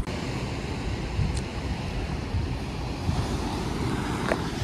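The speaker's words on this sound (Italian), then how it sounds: "questa mattina il mare è anche abbastanza calmo" Steady, moderate wash of calm sea surf breaking on a shore, with a broad continuous rumble and light wind noise and no voices.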